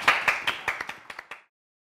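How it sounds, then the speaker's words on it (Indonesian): Several sharp handclaps ring out in a short run, spaced evenly at first, then quickening slightly and fading before stopping. "Aplaus buat abang gua."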